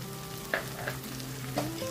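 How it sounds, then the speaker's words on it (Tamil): Soft sizzling and gentle scraping as sambar powder and turmeric are stirred into simmering sambar in a pan, a steady low hiss with a few faint clinks of the spoon. "போட்டு நல்லா கிளறி விடணும்"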